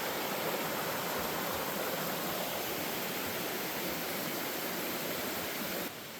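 A creek rushes and babbles continuously in a forest near Cascade Falls, Jefferson National Forest, Virginia, a close, even wash of flowing water with no voices.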